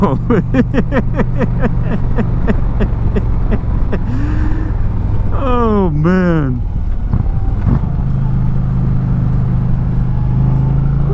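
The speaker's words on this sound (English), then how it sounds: "Oh man, I love twisting the throttle on these PowerPlus engines" Throttle blips on the air-cooled PowerPlus big twin of a 2025 Indian Chieftain bagger make close, loud revs that rise and fall, with a voice exclaiming over the engine and wind noise throughout.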